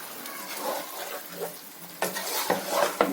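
Marinated green chilli chicken being stirred and mixed in a pan: close scraping and clattering of a utensil against metal over a soft sizzle, with sharper knocks in the last second.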